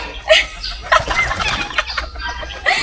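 Pigeons being fed at a crocodile farm in Miri flap their wings in several short, close bursts, with fowl clucking and calling in between against a busy outdoor background.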